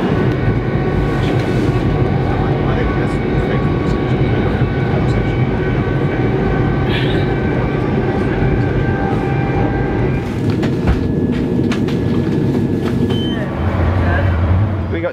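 Javelin high-speed train running: a steady, loud rumble of wheels and motors with a continuous broadband roar and faint higher tones, recorded from inside, with people speaking over it.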